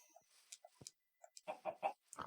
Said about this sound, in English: Heard a chicken.